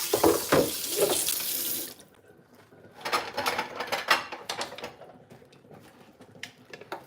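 A kitchen tap runs into a sink during cleaning, a loud steady gush for about two seconds, then quieter splashing, clinking and water sounds as the washing goes on.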